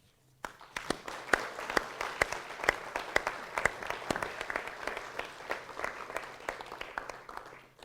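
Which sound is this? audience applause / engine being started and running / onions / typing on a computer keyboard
audience applause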